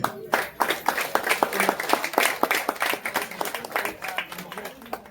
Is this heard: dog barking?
no